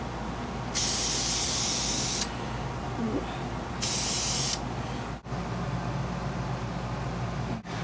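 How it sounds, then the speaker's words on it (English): A spray paint can hisses in two bursts, the first about a second and a half long and the second shorter, loud and close over a steady background rumble. "I probably shouldn't have been shaking that spray paint can while I was talking to you guys."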